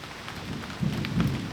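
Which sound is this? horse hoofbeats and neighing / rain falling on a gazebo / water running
rain falling on a gazebo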